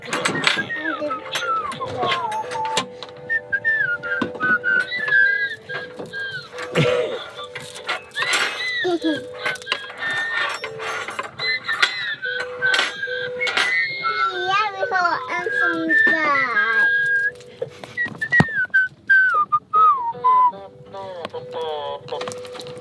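A person whistles the Robin Hood theme tune inside a camper van in cold Sweden, a wavering melody of bright notes rising and falling across the whole stretch, with scattered knocks and background clatter.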